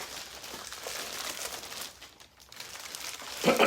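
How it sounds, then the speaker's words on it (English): A plastic bag holding white duck decoys crinkles and rustles up close, with a sharper crackle near the end. "So it comes in this plastic bag right here."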